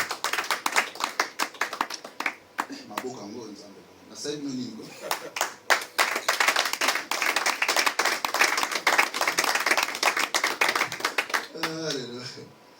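A church congregation clapping and cheering for Jesus at a convention gathering, dense rhythmic applause filling the room with voices calling out and singing over it.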